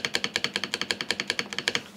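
Rapid run of crisp keystrokes on an ROG Falchion NX compact wireless mechanical keyboard, about twenty evenly spaced clacks in two seconds, close and clear with no talking.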